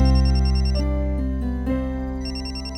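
Mobile phone ringtone playing a looping electronic melody from inside a bag, clear and steady, no voices over it.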